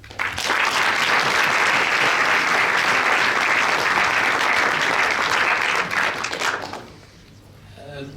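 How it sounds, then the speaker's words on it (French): Audience at a permaculture film screening and debate applauds thanking the guest participants; dense, steady clapping from a crowd runs about seven seconds, then fades out into a quieter room. "nous pouvons d'ores et déjà applaudir et remercier de la participation"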